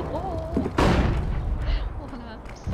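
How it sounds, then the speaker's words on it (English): A flashbang grenade bursts in CS:GO with a single loud, sharp blast followed by a decaying hiss. A voice talks just before it, and game ambience continues afterward. "Flashbang."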